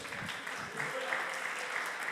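A church congregation applauds to praise the Lord during a worship service, a steady wash of clapping hands filling the room with voices mixed in underneath.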